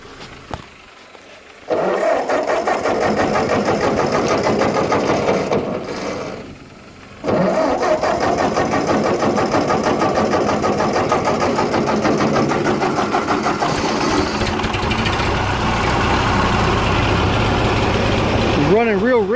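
Ford 8N tractor engine cranking and catching, then running rich with a loud, rough, uneven idle that dips once before picking back up, close by, with a voice talking over it.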